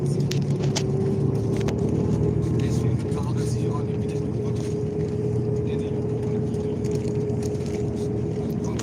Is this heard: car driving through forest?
yes